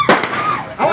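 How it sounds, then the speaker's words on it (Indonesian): Police fire warning gunshots into the air while chasing a robbery suspect in Palembang: a sharp bang at the start and another near the end, loud and close, with a noisy scene filling the gap between them. "Tembakan peringatan ke udara dilepaskan polisi"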